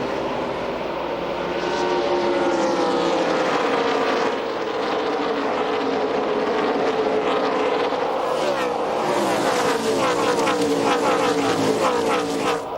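NASCAR Craftsman Truck Series trucks roar at full throttle after a restart at Texas, a dense, loud engine drone that swells as the pack passes close, with a commentator talking over it.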